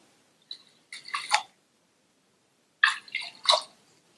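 Raw rice is washed with water in a pressure cooker, heard as two brief bursts of close sloshing and swishing separated by a quiet pause.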